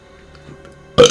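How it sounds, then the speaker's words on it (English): A single short, loud burp erupts at the very end after near silence, close to the microphone during a Resident Evil 2 gaming session. "oh, I just burped."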